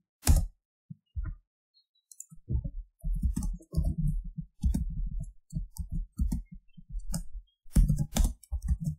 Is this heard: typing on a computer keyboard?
yes